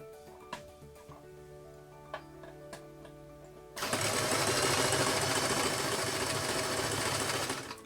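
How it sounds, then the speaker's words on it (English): A sewing machine runs a zigzag stitch on circle-sequin nipple pasties, starting after a few light clicks and then whirring loudly and continuously for about four seconds at close range. "when it does the zigzag stitch it will attach both sides together"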